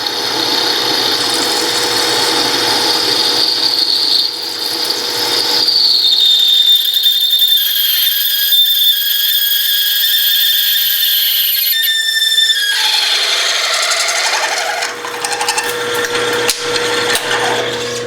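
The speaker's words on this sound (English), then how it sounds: "it gets kind of squealing right there when you get down to the bottom" A power-fed drill grinds into material in a garage, then a sharp high-pitched squeal rises and holds for several seconds as the bit reaches the bottom of the hole, before fading back into rough drilling.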